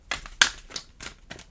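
A deck of tarot cards being shuffled close up, a series of soft papery riffles and snaps in quick irregular bursts, one louder than the rest, with no talk.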